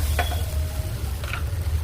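Turmeric being stirred into a tamarind chutney mixture frying in a pan, a low steady sizzle with a few soft scraping stir strokes, close and alone.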